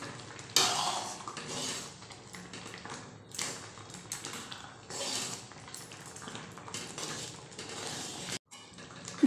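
Dry fruit mixture stirred in a pan over a high flame, with steady scraping and clinking of a spoon against metal that continues throughout and pauses briefly near the end.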